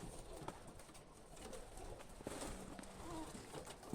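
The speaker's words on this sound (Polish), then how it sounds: "Ładny gołąb." Budapest and Zamość pigeons coo softly in a breeder's loft, low murmuring calls repeating faintly under light rustling and background noise.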